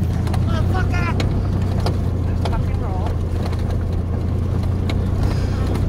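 An old truck driving along, a loud steady engine rumble with wind buffeting throughout, while people talk and shout over it nearby.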